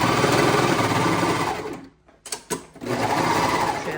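Coverstitch sewing machine stitching knit bands, running steadily with a loud, close mechanical whir, stopping briefly with a few clicks in the middle, then resuming at full speed.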